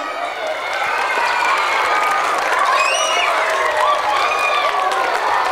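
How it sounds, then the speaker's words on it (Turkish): A school audience, including children, applauds a teacher at a primary school event, a dense, steady wash of clapping with some high cheers and squeals rising over it. "hocama bir alkışlayın"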